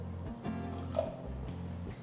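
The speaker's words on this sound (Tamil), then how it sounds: "இதுல 1/4 கப் அளவு தண்ணி ஊத்தி இதை கரைக்கணும்." Water is poured over jaggery in a bowl to dissolve it for a ragi recipe, giving a close, continuous liquid trickle with soft drips and squishy stirring over a faint background hum, with no talking.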